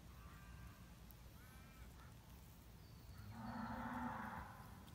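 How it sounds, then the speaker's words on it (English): A cow moos once in the distance outdoors, a faint, drawn-out low call rising above quiet rural background noise near the end, alone without talk. "That was a cow."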